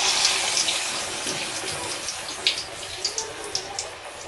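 Onion vada batter dropped into hot oil for tea-shop-style onion vadas, a steady close hiss of frying with small crackling pops, no talking.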